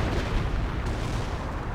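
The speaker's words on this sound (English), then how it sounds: "Flak 88's firing away." Flak 88 anti-aircraft gun firing in the World War II strategy game Company of Heroes, a heavy, rumbling barrage of booming blasts that rolls continuously at close range.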